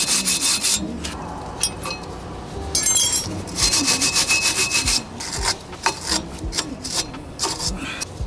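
Brake rotor being scrubbed clean by hand during a brake inspection, with repeated rasping, rubbing strokes in uneven bursts, close and fairly loud, with no talk.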